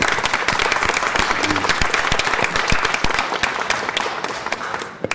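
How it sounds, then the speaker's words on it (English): A crowd at a city council meeting claps in sustained, dense applause that stays steady and then tapers off slightly at the end. "Give a round of great applause on that."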